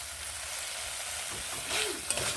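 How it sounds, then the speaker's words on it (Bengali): Spices sauté with coriander leaves in a pan, giving a steady soft sizzle of frying with a few stirring scrapes near the end. Nobody speaks. "খুব ভালোভাবে মশলাগুলোকে এইভাবে কষিয়ে নিচ্ছি"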